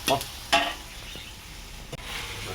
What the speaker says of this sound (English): And then we cook them for a while first until like half cooked like that.